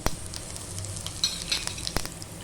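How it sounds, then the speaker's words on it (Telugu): Mustard seeds splutter in hot oil, with scattered sharp pops and crackles over a soft steady sizzle, close by. "మొదట ఒక చెంచా ఆవాలు వేద్దాము చిట్పట్ అంటున్నాయి"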